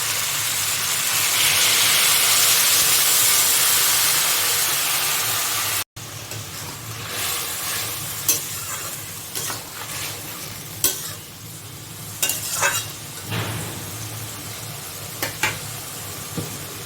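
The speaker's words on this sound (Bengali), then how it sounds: "সবজি কষানো হয়ে গেছে একটু ঝোল দিয়ে দেবো" Broth poured onto sautéed mixed vegetables in a pan sets off a loud, steady sizzling hiss for several seconds, then settles into quieter bubbling with intermittent clinks and scrapes of stirring.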